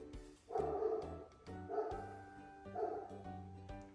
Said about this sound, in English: he has to bark when I have to speak